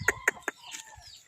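A large desi rooster clucks close by in three short, quick bursts, followed by a softer trailing cluck.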